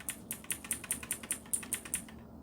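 Keys tapped on a computer keyboard while navigating the BIOS of a newly built Intel 12400 and B660 PC, about a dozen crisp, evenly spaced clicks in quick succession, close and clear with no talking.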